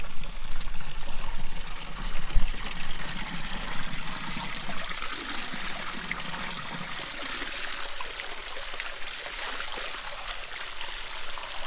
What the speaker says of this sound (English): listening to the sound of trickling water down the stream